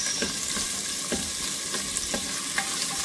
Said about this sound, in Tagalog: Tayo natin medyo mag-brown yung sibuyas